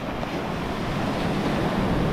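Heavy ocean waves surge and wash on a beach during surf fishing, a continuous loud rush of water with wind noise throughout.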